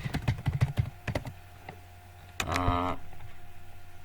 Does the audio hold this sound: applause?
no